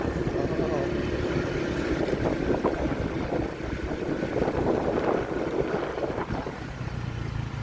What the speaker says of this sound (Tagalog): Ito na po yung mga malalaking bangka